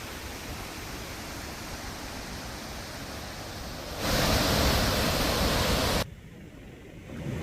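The Gira waterfall in Dang, Gujarat, swollen after heavy monsoon rain, gives a steady, dense roar of rushing water that swells louder midway, then drops back. No voices are heard.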